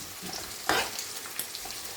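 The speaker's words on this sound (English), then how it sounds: "the fish is cooking away nicely" Silver pomfret (rupchanda) frying in a pan, a steady crackling sizzle with a brief louder burst of stirring partway through.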